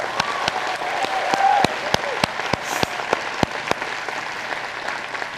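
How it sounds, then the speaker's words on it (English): Audience applause for Rex Morn rings out as a dense, steady wash of many hands clapping, with a few sharper individual claps standing out across the whole stretch. "Let's give our Rex Morn a big round of applause."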